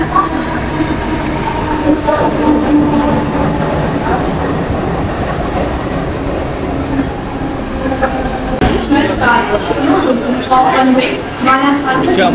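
Train at a railway station during monsoon rain, its rumble and rail noise steady throughout with clattering and brakes stronger near the end, under a busy background of voices.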